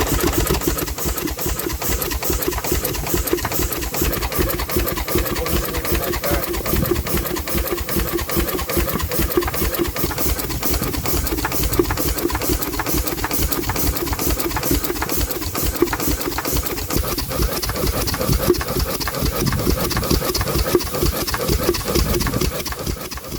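A U.S. Navy launch steam engine runs steadily throughout, its continuous rapid mechanical chatter and rhythmic knocking staying close and even, with no talking.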